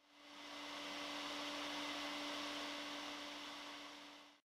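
DALAP SD duct fan running after installation, a steady whooshing airflow hum with a constant motor tone that swells up at start, holds evenly, then cuts off abruptly at the end.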